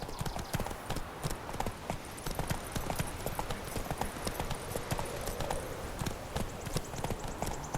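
Hooves of the horse Roach pound in a fast galloping clip-clop rhythm in The Witcher 3, continuous and close throughout.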